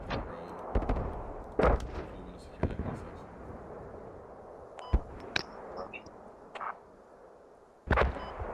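Mortar and other explosive impacts in an online squad-based war video game, sharp irregular booms and cracks spread over several seconds, some louder and nearer, others faint, with game noise between and no clear talk.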